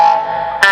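A sustained electric guitar tone shaped by a wah-wah pedal through a clean amp, its filtered pitch sweeping, followed by a brief bright pick attack at the end.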